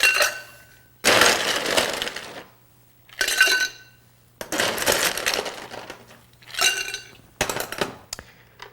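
Ice stirred in a mixing glass while chilling a Ritz Bijou cocktail, several separate bursts of loud glassy clinking and rattling with silent pauses between.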